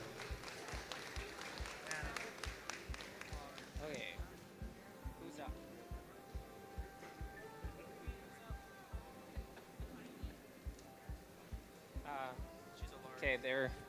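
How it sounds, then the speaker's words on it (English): An audience at a junior Charolais cattle show in Regina claps in a steady, rhythmic beat through the whole stretch, with voices talking over it. "Another huge round of applause for the juniors,"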